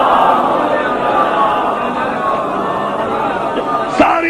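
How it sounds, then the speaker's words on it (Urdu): A large religious gathering answers a cleric by chanting salawat on Muhammad and his family in unison, a dense swell of many voices that stays loud throughout and rises briefly near the end. "بلند ترین صلوات بھیجے محمد آل محمد پر"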